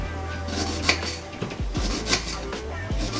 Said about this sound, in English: So now that you've got your ginger chopped